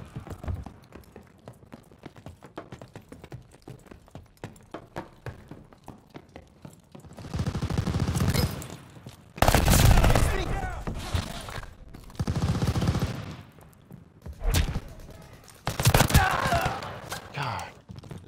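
Bursts of gunfire in the Call of Duty Vanguard multiplayer shooter, loud volleys coming in several separate clusters over a busy background of game noise and footsteps.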